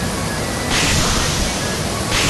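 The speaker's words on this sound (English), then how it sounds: "The serene sounds of raging waterfall fills the air" Steady roaring rush of a raging waterfall in the video game Summer River Adventure, a broad continuous wash that swells louder partway through and again near the end, with no voices.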